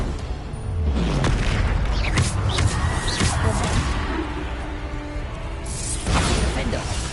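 Bombarda blasting spell in Hogwarts Legacy detonates amid a loud, continuous wash of game combat, with booming impacts and crashes layered over dense low rumble throughout.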